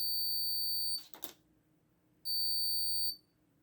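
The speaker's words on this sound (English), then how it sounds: "how to make a buzzer beep using an IR sensor and an Arduino" A buzzer wired to an Arduino Uno and triggered by an IR sensor sounds two loud, steady electronic beeps, each just under a second long, separated by a quiet gap with a brief rustle.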